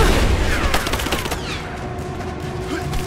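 Rapid automatic gunfire in the Rise of the Tomb Raider game, loud and dense at first and then thinning into scattered shots over a lingering rumble.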